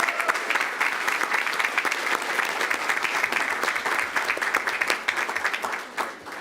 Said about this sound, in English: How about we give them a round of applause as they sit up here?